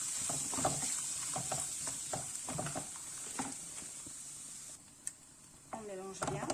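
A trio of bell peppers and grated garlic cook in a pan while being mixed. A soft continuous sizzle sits under a rhythmic series of spoon scrapes and taps, then quiets before a few sharper clatters at the end.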